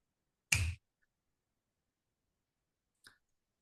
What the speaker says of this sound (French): À chaque claquement de doigts, ça va s'intensifier